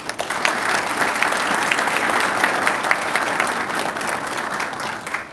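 Sustained applause from a graduation audience honoring detention academy cadets, a steady dense wash of many hands clapping at even loudness throughout, with no voices over it.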